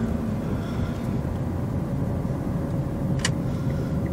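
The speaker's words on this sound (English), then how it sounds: "that car come up behind me pretty quick" A car approaches quickly from behind on a road, heard as a steady broad road and engine rumble, close and loud throughout, with a brief higher whoosh near the end and no speech.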